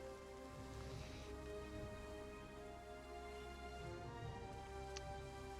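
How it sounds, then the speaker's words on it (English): Steady rain patter in a video game, on a surface, continuous and even, with a low droning tone underneath and no talking. "And it's raining."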